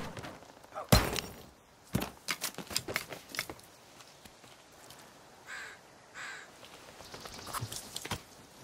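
Crows caw in the survival video game The Forest, a few harsh calls mixed with sharp clattering, thunking and breaking noises from the player's actions, moderately loud with no talk over them.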